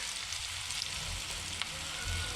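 Tempering seeds and turmeric frying in hot oil for mulakaya (drumstick) curry, a steady close sizzle with faint crackles and small pops throughout, no voices.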